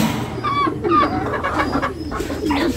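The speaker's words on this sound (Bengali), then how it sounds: "এটা অস্ট্রেলিয়ান ঘুঘু, এরা ডিম বাচ্চা করে, মিস করে না।" An Australian dove coos repeatedly at close range, its soft rolling calls coming in a steady rhythm over other birds' chatter in an aviary.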